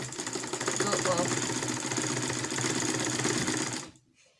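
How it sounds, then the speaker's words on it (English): A sewing machine stitches a bustier seam with a half-inch allowance, a steady close mechanical whirring for about four seconds before stopping abruptly. "Then you sew with 1/2 inch sewing allowance."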